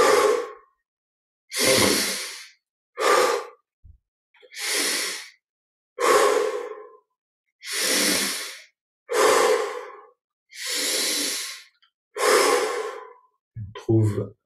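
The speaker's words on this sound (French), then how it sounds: "on prend 20 respirations profondes" Slow deep breaths in through the nose and out through the mouth, about ten long, even, close breaths separated by brief pauses during a guided meditation.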